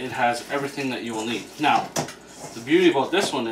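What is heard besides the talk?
No everyday noises stand out.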